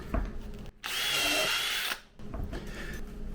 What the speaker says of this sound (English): I've got to remove it before I can drill another hole with that drill bit.